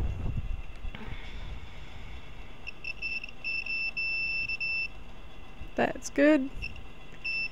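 A multimeter gives a steady high continuity beep during work on an AM/FM radio kit, faint and running for a couple of seconds, with brief speech afterward.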